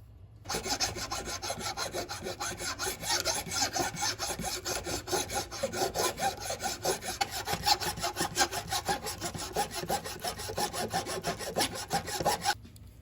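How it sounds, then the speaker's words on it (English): A chisel is sharpened on a sanding stone in a ball-bearing honing guide, giving a close, continuous rasping scrape with rapid back-and-forth strokes that run steadily from start to finish with no talk. "when I sand this on my sanding stone, I'm going to have that perfect angle because this ball bearing here is going to roll nicely"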